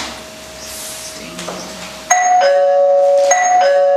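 A doorbell rings indoors: a faint tone lingers first, then a loud, close chime sounds two clear ding-dong notes back to back over a quiet room.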